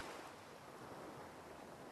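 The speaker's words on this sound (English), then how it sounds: "Damn, the waves are already rising." Surf rolls steadily onto a remote island shore as the tide comes in, a continuous broad wash with wind noise over the mic and a brief louder gust at the end.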